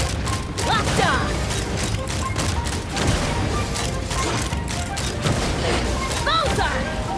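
Gunfire in the video game Genshin Impact, with a rapid fusillade of shots and booming impacts running throughout at close, loud level, under and between voices calling out in the game.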